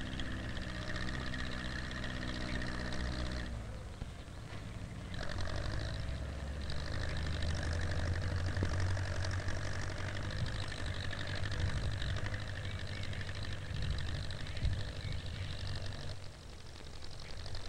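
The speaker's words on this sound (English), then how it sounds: "The tractor pulls a four-row planter that not only plants seeds, but puts fertilizer in the ground at the same time." Tractor engine pulling a four-row planter that sows seed and fertilizer, a steady low drone running for the whole stretch, moderately distant and even, with a brief shift in tone early on.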